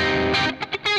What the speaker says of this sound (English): just kind of adding a little bit of a transparent distortion